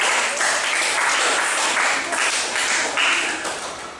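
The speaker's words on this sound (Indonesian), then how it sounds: "sekali lagi tepuk tangan untuk kalian semuanya" Steady applause from a crowd, dense clapping that holds for several seconds before tapering off slightly at the end.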